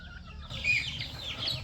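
Chickens cluck softly while feeding over a steady low rumble of background noise, brief nearby calls blending into a busy farmyard hum.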